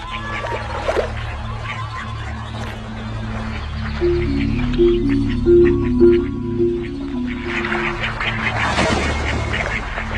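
Ducks quack and squawk near saltwater crocodiles wallowing in water, a busy chorus of repeated harsh calls swelling and fading over a low steady wash of background sound.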